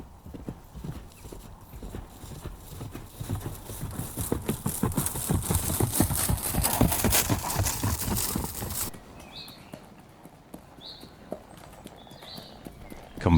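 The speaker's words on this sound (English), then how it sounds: "Yes, sounds like his horse." Rhythmic clip-clop of horse hooves grows louder as it approaches, then stops; faint clinks follow in a quieter pause.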